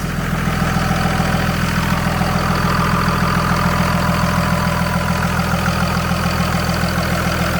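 A second-generation 5.9 Cummins diesel engine idles smoothly and steadily, a loud, close, continuous low rumble with an even rhythmic knock and no breaks throughout.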